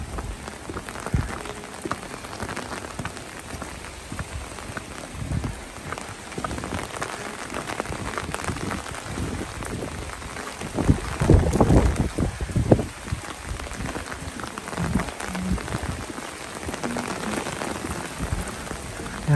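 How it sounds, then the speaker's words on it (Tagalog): Rain pours onto a street in the old town of Durlach, Germany, a dense, continuous hiss and patter of drops that swells louder for a moment midway, with no talking. "Yan, palakas ang ulan."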